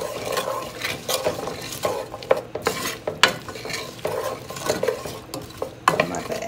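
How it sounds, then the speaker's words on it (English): Vegetables stirred in a pan for chili beans: continuous close scraping and clinking of a utensil against the pan over a light sizzle, with no one speaking. "We're gonna give our veggies a good old stir."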